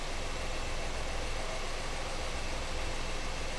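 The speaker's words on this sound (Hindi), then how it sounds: "पहले जिस तरह थोड़ी सी खुल के आवाज़ आ रही थी ना इंजन की, अब उस तरह से नहीं आ रही, लेकिन दबी हुई आ रही है" A Maruti Alto car engine idles steadily, heard from outside the car after sound damping has been fitted, giving a muffled, even drone with no changes in pitch.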